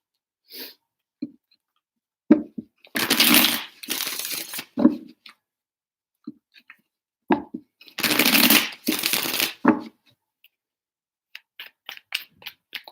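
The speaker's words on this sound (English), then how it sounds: "Two shuffles." Tarot cards being shuffled in two separate rustling, riffling bursts, each lasting about a second and a half, with a few soft taps and card handling noises around them and no talking.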